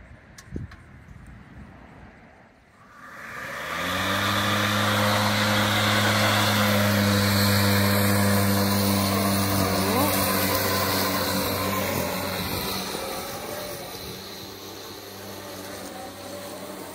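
A DIY electric zero-turn mower, running on two of its three blade motors, spins up after a quiet start into a loud, steady whine with strong low harmonic tones that hold for most of the pass before easing slightly near the end.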